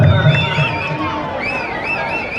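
A large crowd roars and cheers continuously at a women's kabaddi final between Mahakali Chinchali and Alvas at Tamba Dasara, with steady, loud massed noise and shrill whistle-like cries rising above it.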